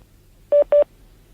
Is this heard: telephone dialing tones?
yes